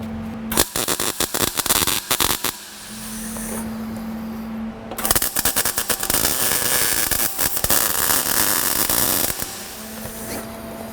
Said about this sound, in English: I'm just going to start by tacking it